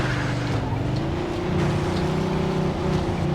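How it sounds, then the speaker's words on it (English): A loud 1940s-style car engine in the crime game Mafia 2 drones steadily at close range, a continuous low rumble with rising and falling tone as the vehicle drives, and no talk over it. "Why do we have to get such a loud vehicle?"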